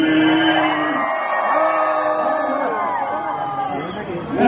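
A crowd of guests at Universal Studios Hollywood yells and whoops together on cue, a loud, sustained mass of overlapping screams and chatter that carries steadily through the clip.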